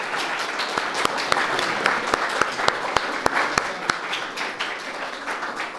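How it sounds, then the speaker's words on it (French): An audience applauds at a Montreal gathering with the Société Saint-Jean-Baptiste, a steady round of clapping with a few sharp, distinct claps standing out near the front. "Alors, une bonne main d'applaudissements, s'il vous plaît."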